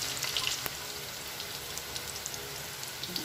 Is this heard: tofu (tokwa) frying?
yes